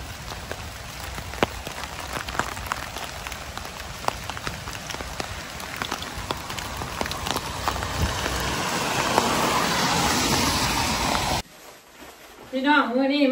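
Heavy rain pouring down outdoors, a loud continuous hiss with scattered sharp drips and taps that grows slightly stronger before a brief voice speaks near the end.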